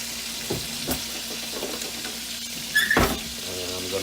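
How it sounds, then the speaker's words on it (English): Chicken livers sizzle in a pan over high heat while a wooden spoon stirs them, giving a soft continuous fry with a few sharp scraping knocks and one louder clatter near the end. "You can get these things fried up really nice"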